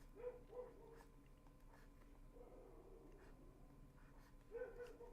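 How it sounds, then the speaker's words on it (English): Two distant dogs bark back and forth outdoors at night, faint short barks spaced through the clip with a clearer pair at the start and end over low background hum. "there are two creatures out there going bark for bark right now"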